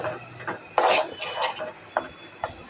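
Food being stirred in a cooking pot while making a Bengali dish of chepa shutki (dried fish) with potatoes: a few scraping, clattering knocks of a utensil against the pot, close and moderately loud, spaced irregularly.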